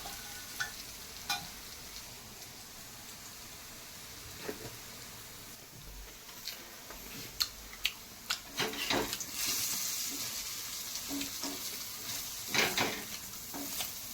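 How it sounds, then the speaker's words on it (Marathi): Gram flour vadas fry in oil in a pan on a high gas flame, giving a steady soft sizzle broken by scattered scrapes and clinks of stirring that grow busier toward the end. "हे खमंग असे भाजून घ्यायचे। हे पहा आपले वडे भाजलेले आहेत इथे।"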